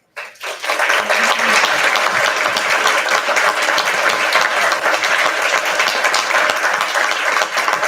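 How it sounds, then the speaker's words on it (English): Loud, sustained applause from an audience at a school board meeting honoring retirees and award recipients, starting abruptly and holding a full, steady roar of clapping for several seconds. "just stand up for one more last round of applause, please."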